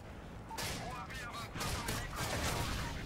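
Bursts of rapid gunfire crackle in quick succession in Call of Duty: Modern Warfare 3, dense and sharp, with a faint voice mixed in among the shots.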